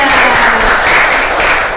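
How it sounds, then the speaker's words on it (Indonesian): An audience applauds for a woman named Linda during a talk, giving a loud, dense, steady patter of many hands clapping throughout, close and without speech over it. "tepuk tangan untuk Mbak Linda"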